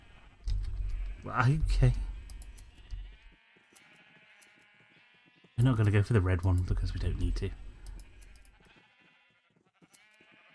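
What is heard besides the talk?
sheep bleating in Minecraft video game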